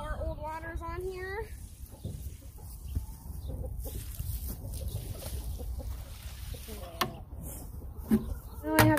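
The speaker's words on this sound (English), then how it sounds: "So we want these chickens on the compost pile." Backyard chickens clucking and squawking around a compost pile, with bursts of loud close clucks at the start and end over steady outdoor background noise and some talking.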